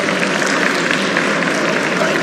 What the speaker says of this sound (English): Let's give a round of applause for Shanti Nara, Deputy Director.